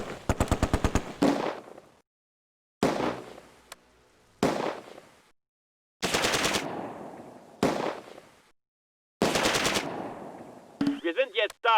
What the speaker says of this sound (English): Get some smoke over there so that that machine gun isn't hitting you.